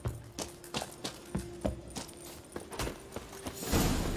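Horse hooves clip-clop at a steady walking rhythm in The Witcher 3, each footfall a distinct thud repeating about twice a second, moderately close, with a faint sustained tone and a brief rustle near the end.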